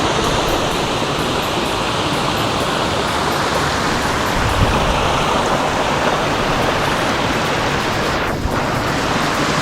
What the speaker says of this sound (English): there's like a natural waterfall there